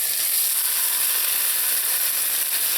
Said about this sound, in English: I'm going to add in some ketchup.